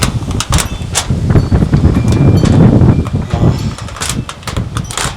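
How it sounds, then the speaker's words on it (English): Gusty outdoor wind hitting the microphone near a backyard smoker grill, loud uneven rumbling bursts that swell and fade, with a few sharp knocks, no talking heard. "I think I'm going to have to move somewhere where the wind doesn't blow."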